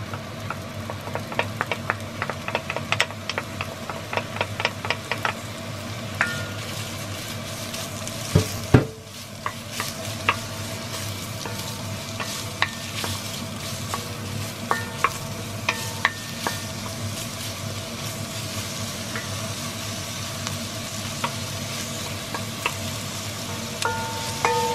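Garlic and onion sautéing in a pan for ginisang ampalaya, giving a continuous close sizzle broken by frequent light ticks and scrapes of a spatula, with no talking.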